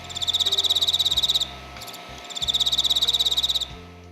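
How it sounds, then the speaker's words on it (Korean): A king cricket sings in two long bursts of rapid, evenly pulsed chirping, loud and close, separated by a short pause, with no talking. "아름다운 왕귀뚜라미 소리에 귀를 한번 기울여 볼까요"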